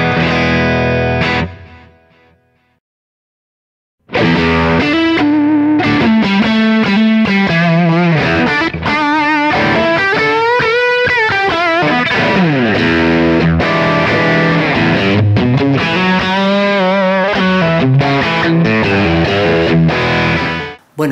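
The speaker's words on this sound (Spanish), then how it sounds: "Es un pedal que me encanta mucho y suena así." Electric guitar played through an overdrive pedal, a sustained distorted riff with chords and melodic lines that starts after a short quiet gap and then plays continuously and loudly with no talking.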